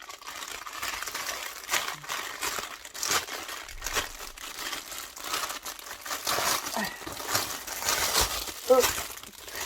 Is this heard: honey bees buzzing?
no